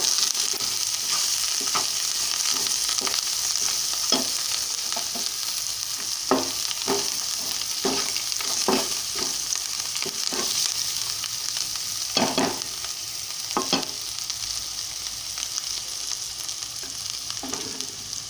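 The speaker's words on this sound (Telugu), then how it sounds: "2 రెబ్బల కరివేపాకు బాగా కడిగి పెట్టుకుని వేస్తున్నానండి. బాగా వేగుతూ ఉంది." Washed curry leaves fry in hot oil for a mutton curry with a loud, steady sizzle, while a spatula scrapes the pan in repeated strokes, up close and with no talking.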